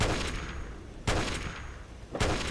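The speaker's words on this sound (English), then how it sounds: "Why do I still hear shooting?" Gunfire in Fallout 3's The Pitt, two sharp shots about a second apart, each followed by a rumbling tail over a steady industrial background.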